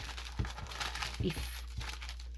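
A paper coffee filter is folded into a pocket for a journal, giving close, crisp crinkles and rustles in several short bursts while a person talks.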